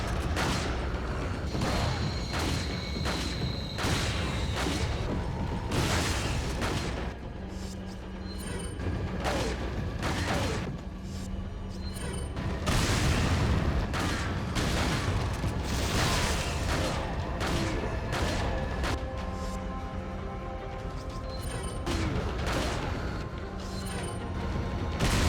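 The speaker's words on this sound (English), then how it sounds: "I just hold the enemies off with the shotgun and the occasional hand grenade" Shotgun blasts and hand grenades in the Resident Evil 4 video game ring out in a dense, loud series of sharp bangs and booms, with clattering mechanical reload sounds and creaks between the shots.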